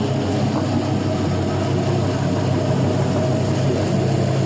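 A 5.3L LM7 V8 fitted with an LS1 cam idles on an engine test stand, a loud, steady, close-up rumble holding one even pitch throughout with no rev changes.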